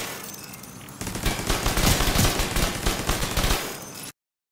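An assault turret on a striker drone fires in a video game, a dense loud burst of rapid gunfire lasting a few seconds after a quieter lead-in, then cutting off abruptly.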